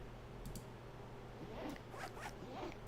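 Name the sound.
zipper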